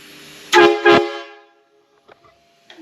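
Air horns on an ERF truck blast twice in quick succession, loud and close, with a rich harmonic tone, then fade into near silence broken by a few faint clicks.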